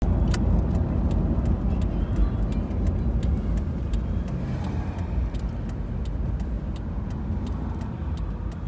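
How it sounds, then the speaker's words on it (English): Steady road traffic rolls through a small town, a continuous dense rumble of cars passing close by with faint ticking and rattling on top, no talk. "There's a lot of traffic in this town"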